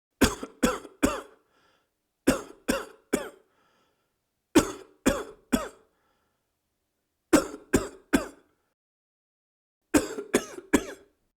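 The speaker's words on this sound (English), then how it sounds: "How long have you had that cough?" Harsh coughing fits come in groups of three or four sharp coughs, separated by short pauses, close and loud, repeating five times.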